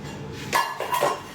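A nesting camping cookware set that splits into two pots is handled, giving two quick, light metallic clinks up close against a quiet background.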